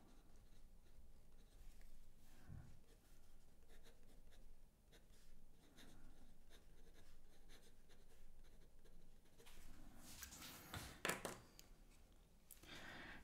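A broad Kaweco fountain pen nib scratches softly across paper as someone writes. The faint, close scratching runs steadily and grows louder near the end.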